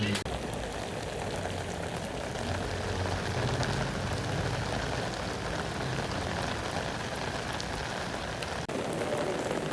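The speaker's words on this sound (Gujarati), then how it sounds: "છ વાગ્યા છે અને ધડબડ વરતી વરસાદ આવી રહ્યો છે." Heavy rain pours down steadily in the evening, a dense continuous hiss of drops drumming on surfaces, loud and even throughout, with faint voices in the background.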